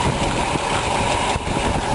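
A 1965 Ford Mustang GT with a 289 V8 idles with a dense, constant, close-up rumble and hiss, running steadily without any talk.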